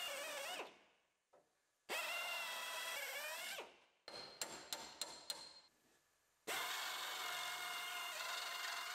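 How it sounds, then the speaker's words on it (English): A power drill whines in repeated bursts, with several short stuttering pulses in the middle as the bit bites into spot welds on a GMC Yukon's metal body, loud and close. "Now I'll drill out these other welds."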